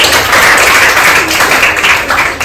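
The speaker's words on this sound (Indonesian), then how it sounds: "tepuk tangan dulu Kak" A classroom of children breaks into continuous applause, a dense wash of many hands clapping at once, loud and steady for a couple of seconds before tapering slightly.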